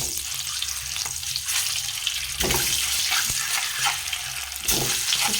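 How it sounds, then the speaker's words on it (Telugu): Cut eggs fry in hot oil seasoned with salt, chili and turmeric for an egg pulao, a steady close sizzle with a few clatters and stirring sounds along the way. "కట్ చేసి పెట్టుకున్న ఎగ్స్ని ఫ్రై చేసుకుందాం అన్నీ ఒక్కొక్కటి."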